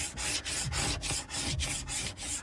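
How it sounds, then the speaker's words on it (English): A plastic scraper is pulled along a waxed snowboard in repeated close, steady strokes, each rasping pass separated by a brief pause, with no voices. "So I hold the scraper at a 45-degree angle"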